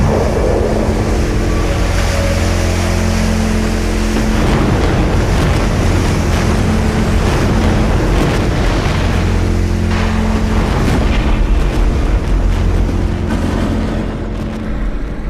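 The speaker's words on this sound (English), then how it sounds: "600 billion cubic feet of water bursts through the dam and gushes downstream" A massive surge of water bursts through a dam and gushes downstream, a loud and continuous roaring rush with steady turbulent churning that lasts the whole stretch.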